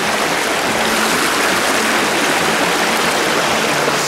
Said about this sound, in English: How to cross the stream without completely losing your crap.